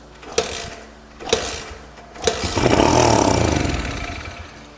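An old barn-find Honda XR dirt bike is kicked over a few times with short thumps, then catches and revs up into a loud, rough, buzzing engine run close by.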